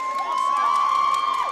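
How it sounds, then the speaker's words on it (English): Spectators cheer loudly at a swimming finals race in Edinburgh, a sustained shout and roar of a crowd under a shrill whistle-like tone, brief and close. "She's getting a big cheer as well."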